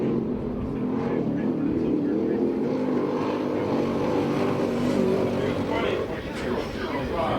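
A USAC/CRA sprint car takes the green flag at the Perris track, its engine a loud continuous roar that rises and swells steadily, heard over and under a trackside announcer's talk.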